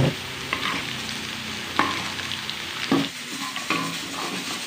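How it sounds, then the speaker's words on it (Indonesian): Sliced shallots frying in hot oil in a pan, a steady sizzle broken by several sharp scraping stirs of a spatula at irregular intervals, close and moderately loud with no talking. "saya goreng dulu bawang"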